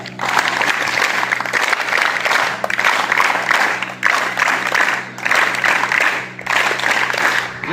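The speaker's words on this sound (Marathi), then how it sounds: "एकदा जोरदार टाळ्या" A crowd at a taluka-level school sports competition prize ceremony applauds steadily in several long waves of clapping, each swelling and easing off briefly before resuming, with a faint hum beneath.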